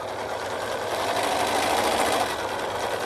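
A domestic sewing machine runs at a steady, moderate pace, giving a continuous close whirring hum with rapid needle clatter and no voices over it.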